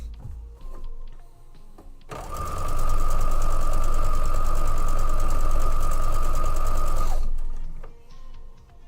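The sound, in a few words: sewing machine stitching fabric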